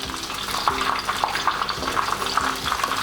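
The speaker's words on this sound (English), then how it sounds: "It's fried for 3 minutes, so let's flip it over." A chicken tatsuta patty deep-frying in oil, giving a steady close crackle and bubbling sizzle with small spitting pops throughout, no voices.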